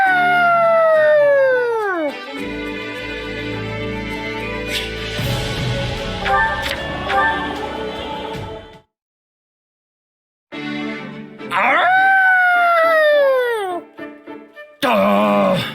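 A game character in Fire Emblem Warriors Three Hopes imitates a wolf howl with her voice: two long, loud, falling howls separated by a short silence, with game music and effects beneath.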